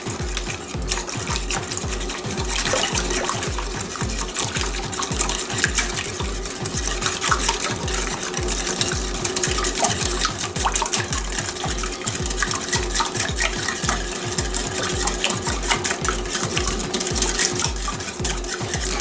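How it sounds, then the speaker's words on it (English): Milk being whisked by hand for Watergate salad: a fast, steady rhythm of whisk strokes swishing and tapping through the liquid in a bowl, continuous and close, with no one speaking. "now I'm gonna get my whisk and I'm gonna start whisking this up"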